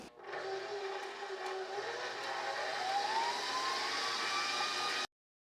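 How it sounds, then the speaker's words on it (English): A stand or hand mixer whirs steadily while creaming a stick of softened butter until fluffy for Christmas cookies, its motor pitch rising gradually over several seconds before cutting off abruptly. "The first thing we're gonna do is cream that butter until it gets nice and fluffy."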